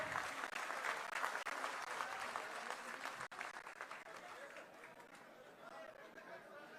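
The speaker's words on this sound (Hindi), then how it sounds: "तालियां रुकनी नहीं चाहिए" At a BJP political rally in Ambala, a crowd claps loudly while people chatter around them, the applause thick at first and then easing off into a softer murmur.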